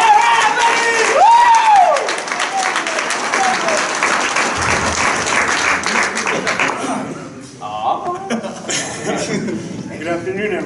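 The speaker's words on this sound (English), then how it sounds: "Big round of applause for Mr. Ray." An audience at a multicultural celebration bursts into loud, sustained applause with cheers, whoops and some voices, the clapping gradually thinning toward the end.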